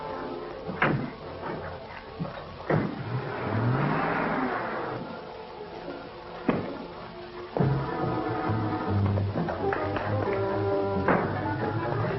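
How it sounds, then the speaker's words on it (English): Car starting and driving away in an old movie scene, an engine revving and accelerating amid door thumps and clatter, rising then fading over about twelve seconds. "I'll follow in my car."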